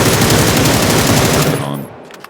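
Rapid automatic gunfire in the battle royale game PUBG, a loud sustained burst of closely spaced shots for about a second and a half before cutting off, then a faint tail.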